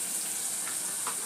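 Tomato, capsicum and parsley stalks fry in a pan with a continuous, dense, close hiss of sizzling, steady throughout and with no voices.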